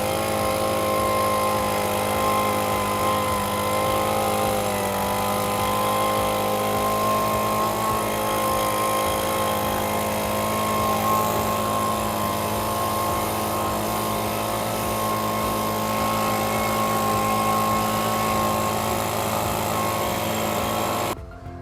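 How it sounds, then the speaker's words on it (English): A leaf blower blasts dust off a Space-Ray LoPro gas brooder, a loud, steady engine whine and rush of air held almost unchanged for the whole stretch, cutting off abruptly at the very end. "after we blow it off with this leaf blower"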